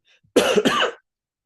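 A single short cough, close and clear, a quick double burst followed by silence.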